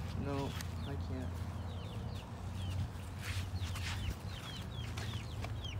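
Chickens cluck and call steadily in an outdoor backyard coop, several birds close by with bursts of squawking over constant background noise.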